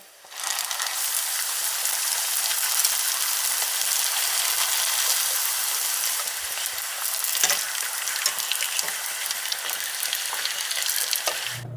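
Crab rangoon wontons frying in oil, a loud, bright, continuous bubbling sizzle that starts abruptly and holds steady, with a few faint clicks of handling, no voices.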